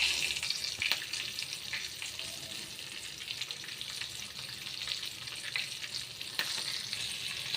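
Green chillies sizzle and crackle steadily in hot tempering oil, close up, with occasional sharper pops and clicks as the pan is stirred; no talking.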